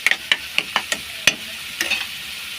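Onions with ginger garlic paste being stirred and fried in a pan for egg chicken bhartha, a series of sharp spoon scrapes and stirs about every quarter second over a soft sizzle, close and alone.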